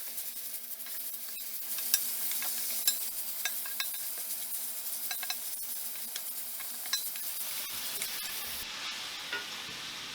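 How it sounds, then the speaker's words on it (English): Bacon and spicy country sausage brown in a pan for stew, giving a steady close sizzle with scattered pops and occasional stirring scrapes, no voices. "we've got our bacon and our sausage going ahead in there, and they're getting those juices and stuff out of there"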